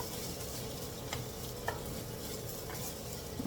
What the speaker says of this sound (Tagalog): mix muna natin dahil palabasin natin yung katas ng sibuyas at bawang